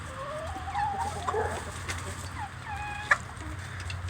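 Several chickens being fed make clucking and squeaky chirping calls, with repeated short pitched notes and a sharp peep, fairly close over a low steady hum; no one speaks.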